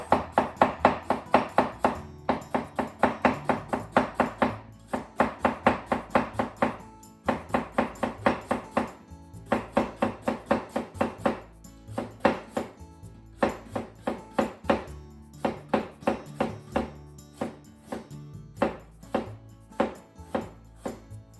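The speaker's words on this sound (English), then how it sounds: "Cut both ends off into thin diagonal slices" A kitchen knife slices a cucumber into thin diagonal slices on a board, quick rhythmic tapping strokes in repeated runs with short pauses between, close and crisp, no talk.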